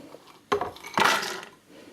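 Cashews dropped into a blender jar, two distinct bursts of hard little pieces clattering against the container, the second longer and rattling before fading.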